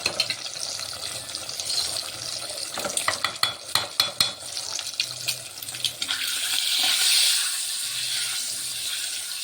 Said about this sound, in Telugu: గుడ్డు ఫ్రై చేస్తున్నాను